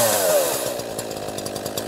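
An ECHO CS-4910 or CS-590 chainsaw engine drops from fast idle to a steady, loud, close idle putter with a rapid regular beat.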